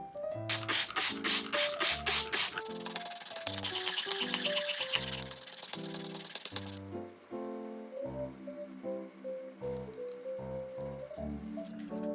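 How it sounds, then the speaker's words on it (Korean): Steady rasping sandpaper strokes rub against a hard resin flower-pot surface, flattening one face, fairly close, with music playing over them throughout. "이쪽 면만 평평하게 사포질한 뒤에 붙여줄게요."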